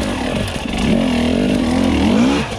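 Husqvarna TE300i dirt bike on singletrack with its rear wheel spinning without traction, a loud, close, sustained engine drone that rises and wavers in pitch as the revs climb and hang.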